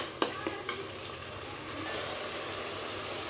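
Spice paste sizzling and being stirred in a pan for a fish curry, a steady soft hiss throughout with a few faint scraping taps of the spatula at the start, no talking.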